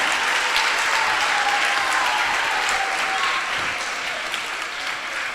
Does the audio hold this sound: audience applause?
yes